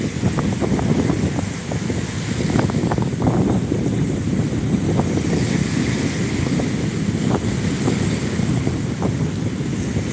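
Ocean waves surge in and out along a windy shore, a steady loud wash of surf with wind buffeting the microphone throughout, no voices.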